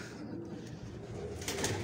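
Soft pigeon cooing on a rooftop at night, faint and low, with a bit of rustling and a light background hum.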